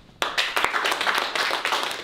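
An audience applauds at a women's hockey event in Green Bay, a dense, steady burst of many hands clapping that starts abruptly and continues evenly for about two seconds.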